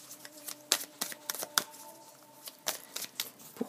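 Oracle cards riffled and shuffled by hand for a reading, a run of quick, crisp papery flicks and snaps, close and fairly quiet, with a faint background hum.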